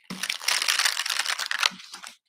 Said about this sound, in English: Shuffling on behalf of all of us.